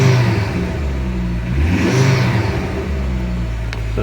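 The Mk2 Ford Focus ST runs on a cold start with a loud, close engine note and a steady drone that swells and eases as it revs, accompanied by a faint whir, with no voices.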